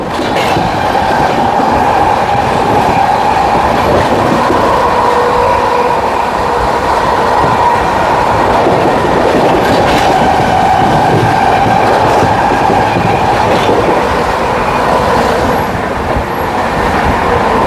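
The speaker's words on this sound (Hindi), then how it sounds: "हम लोग निकालने जा रहे हैं फुल 130 की स्पीड में ताबड़तोड़ रफ्तार के साथ हाथरस जंक्शन का स्किप लेने जा रहे हैं" A train skips Hathras Junction at 130 km/h, heard from on board as a loud, constant rumbling roar with faint clickety-clack from the rails, steady and unbroken with no voices.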